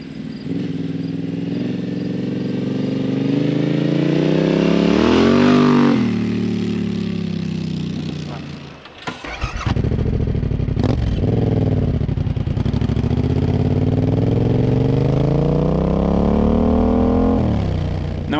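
A Yamaha Tenere 700 motorcycle engine revs up and down close by, a throaty rumble that rises, dips briefly near the middle, then surges again in repeated accelerating pulls.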